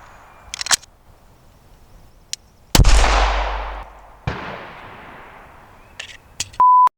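A handgun is fired after a fresh magazine goes in: one loud, close shot with a long echoing decay, a few sharper clicks and cracks around it, and a short electronic beep at the end.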